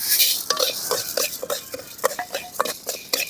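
Lentils and spices being dry roasted in a pan for homemade sambar powder, heard as quick, rhythmic scraping and rattling stirs, close by and fairly loud.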